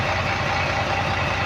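A fishing boat's diesel engine runs steadily as the boat pulls away from the harbour, a continuous low mechanical rumble with a knocking pulse, loud and close, with no talk over it.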